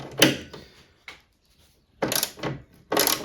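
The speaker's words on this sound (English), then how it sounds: "let's remove this rear upper spoiler and brake light, 10mm socket" A 10mm socket wrench loosens bolts on the rear upper spoiler of a Range Rover 3.6 V8 tailgate, giving several short, close ratcheting bursts separated by pauses.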